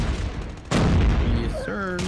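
A sniper rifle fires in the video game Call of Duty Mobile: one sharp, loud blast cuts in, then quieter game noise continues and people talk over it.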